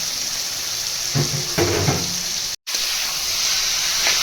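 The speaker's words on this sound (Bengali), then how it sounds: "এই জলটা ফেলে দেবো।" While chicken cooks for a mixed tadka, water is poured off, making a steady close hiss with splashing and clattering bursts in the middle, a brief cut, then continuing hiss.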